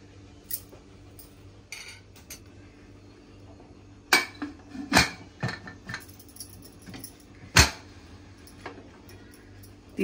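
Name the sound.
pressure cooker lid being closed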